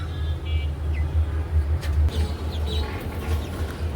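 Chickens kept on a city balcony in Dhaka give intermittent clucks over a steady hum of nearby road traffic.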